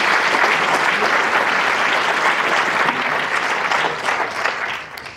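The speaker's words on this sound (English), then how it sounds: "Please give them a round of applause." A crowd at a county address claps loudly and steadily from up close, the applause holding strong before thinning slightly near the end.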